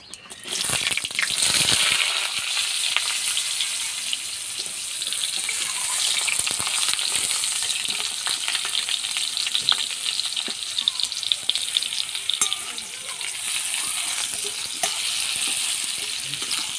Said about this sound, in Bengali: এবার আমি আচারটা হালকা করে ভেজে নেব।